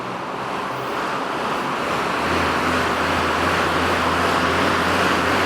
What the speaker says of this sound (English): it definitely winds up because it's a fan bike, of course. Obviously, it's going to make some noise.